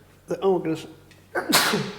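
A single sharp, close sneeze bursts out after a brief vocal intake, loud and sudden in an otherwise quiet room.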